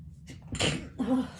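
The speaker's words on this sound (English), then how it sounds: "I have to sneeze again" A single human sneeze, a short sharp indrawn gasp followed by a loud explosive burst and a brief trailing exhale, close to the microphone.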